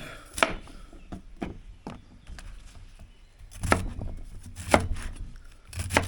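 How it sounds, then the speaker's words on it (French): Knife chopping through an endive on a cutting board, a few sharp separate cuts spaced out with quiet gaps between them, close and fairly soft. "on va commencer par couper une endive"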